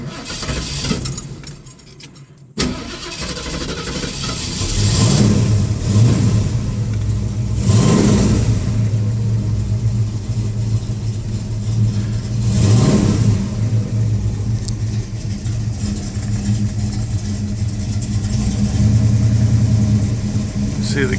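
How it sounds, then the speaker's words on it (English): A 1970 Ford Mustang Mach 1 Fastback cranks and catches, then settles into a loud, deep idle broken by several sharp revs, with someone talking over the running engine. "I'm going to give a walk around, start her up here for you so you can see her run."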